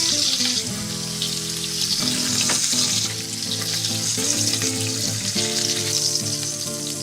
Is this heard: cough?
no